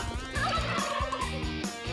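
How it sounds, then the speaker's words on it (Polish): A turkey gobbles in a rapid rattling series of repeated bursts, loud and close, filling the short stretch without any talk. "Indyk Barta uciekł i wypadł mu z rąk"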